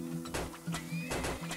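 Horse neighing in the video game Turmoil, a few short whinnies with harmonic bands over a steady low in-game hum, fairly close and moderately loud with no talk.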